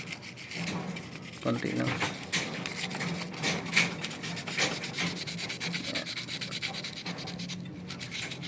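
Filing a copper pipe on a leaking Daikin split-type evaporator coil, a close, repeated rasping scrape in uneven strokes, with someone speaking briefly over it.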